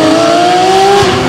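A Porsche 992 GT3 RS naturally aspirated 4.0-litre flat-six holds a loud, high, steady rev with a slight upward climb in pitch, a brief burst of sports-car howl.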